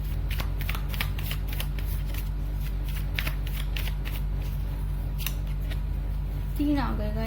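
Tarot cards are shuffled by hand in a run of quick riffling flicks and soft slaps, close and clear over a steady low hum, with a brief voice near the end.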